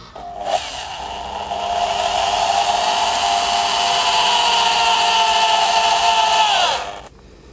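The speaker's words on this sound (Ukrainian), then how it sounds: "пробую сверлитися, тільки попадає на ребро" A power drill whines continuously for about six seconds at close range while drilling a motorcycle top case, its pitch holding steady before spinning down, with no talking.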